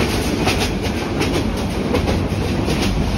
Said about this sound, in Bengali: পাশে একটি ট্রেন যাচ্ছে, সেটা সম্ভবত ব্রহ্মপুত্র এক্সপ্রেস